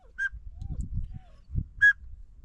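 A teal duck whistle gives two brief, sharp peeping calls spaced about a second and a half apart, close and clear over low rustling and handling noise.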